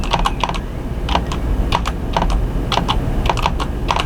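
Fingers type on a computer keyboard in quick, uneven bursts of crisp key clicks, close and clear throughout, with no talking.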